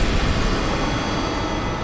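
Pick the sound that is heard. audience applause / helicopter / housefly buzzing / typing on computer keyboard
helicopter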